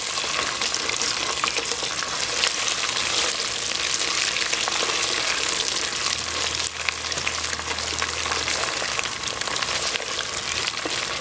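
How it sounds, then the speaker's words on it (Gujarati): Tomato paste fries in hot oil in a pan with a dense, continuous sizzle and crackle that stays close and even throughout, with no one speaking. "અને ટમેટો પેસ્ટને આપણે તળશું નહીં જરાક, તો એનું ફાઇન તે સુગંધ નીકળે ને જરાક કલર ચેન્જ થાય"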